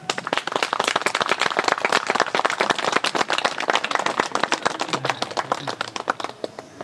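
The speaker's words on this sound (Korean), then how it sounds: "크게 계신 분들은 박수를 좀 쳐주시고" Audience clapping at a memorial unveiling ceremony, dense and steady applause from a crowd nearby that holds strong throughout and thins slightly toward the end.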